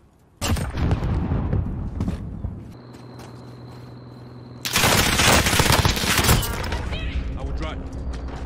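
Rapid automatic gunfire in Call of Duty Warzone, loud and close, with dense bursts of shots that swell into a heavy sustained volley, while players talk over the shooting.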